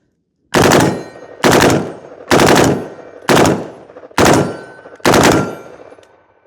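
A rifle fitted with a forced reset trigger fires six sharp, loud shots in an even rapid rhythm, each crack followed by a short ringing decay, with no talk.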